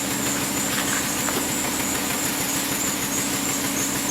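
Hyundai Sonata engine idling with a misfire, a steady, fairly loud rumble with faint uneven pulsing from the exhaust throughout, no voices.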